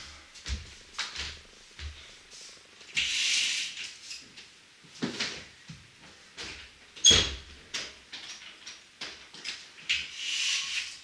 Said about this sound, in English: let's close my door